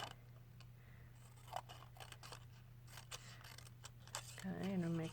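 Scissors cut paper legs for a paper turkey craft, giving a few quiet, scattered snips over a steady low hum, with some faint vocal sound near the end.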